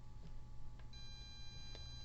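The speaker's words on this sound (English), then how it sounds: "that beeping indicates that there is continuity from this probe to this probe" A multimeter's steady electronic continuity beep sounds from about the middle of the clip onward over a low hum, with a few faint clicks.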